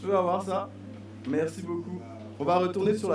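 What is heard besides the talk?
No everyday noises stand out.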